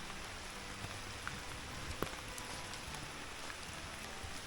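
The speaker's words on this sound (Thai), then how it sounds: "ฝนก็ตกลงมาเลย ไม่คิดว่าฝนจะตกห่ำนะฮะ" Steady rain falling outdoors at night at a fishing spot, a dense, even hiss with scattered louder drops and no voices.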